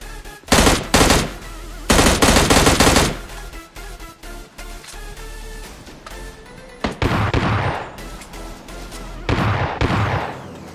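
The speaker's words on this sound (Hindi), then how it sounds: "अब आपने गाइस भाई फायर साउंड तो सुन ही लिया होगा भाई, बंदा S12 के चला रहा भाई" S12K shotgun fire in PUBG Lite, several loud close bursts of booming shots in clusters with quieter pauses between, no talking.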